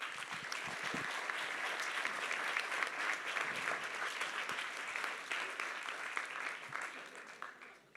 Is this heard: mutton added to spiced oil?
no